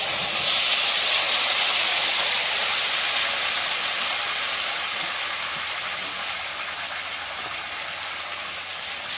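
A paste of onion, garlic, ginger and cashew hits hot oil with a loud, bright hissing sizzle that starts sharply and slowly fades over several seconds, with no talking.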